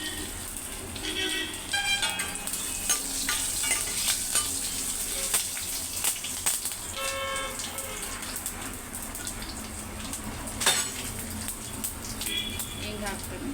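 Dry red chillies, curry leaves and garlic crackle in hot oil in a home kitchen, a steady close sizzle broken by sharper spits and faint clinks, with a voice talking over part of it.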